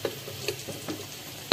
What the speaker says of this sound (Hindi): चावल मिक्स कर रहे हैं